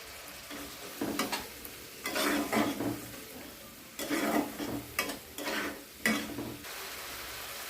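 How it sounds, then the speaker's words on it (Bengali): A spoon stirs masala with a little added water in a pan, making repeated bursts of scraping strokes over a low, quiet sizzle, with short pauses between the stirring spells. "জল দিয়ে মশলাটা ভালো করে কষিয়ে নেব"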